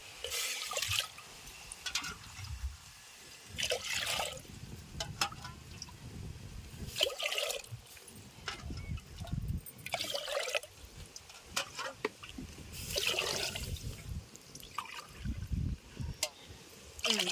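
Water poured into a cooking pot for rice and split moong dal, heard as a rushing, splashing flow that swells and eases in several waves, fairly close.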